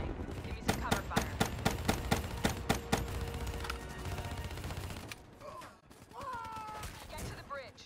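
Video game gunfire from Call of Duty Black Ops 3 rattles in quick, loud bursts for a few seconds, then gives way to a lower battle din with tonal, voice-like sounds near the end.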